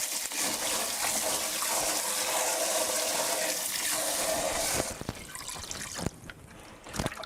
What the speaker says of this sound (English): corn and water in here, and we'll just sort of squeeze it through our hands like that